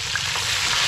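Dalag (snakehead fish) sizzling and crackling in hot oil, a dense, steady hiss up close with no voices.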